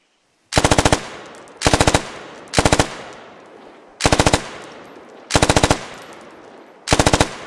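Automatic gunfire in the military shooter Squad: six short, loud, controlled bursts of several rapid shots each, separated by about a second of fading echo.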